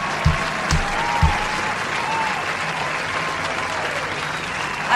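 Applause closes a full playthrough of the horror game Welcome to Kowloon, a steady wash of clapping hands that holds at even loudness for the whole five seconds, with a few sharper claps punching through near the start.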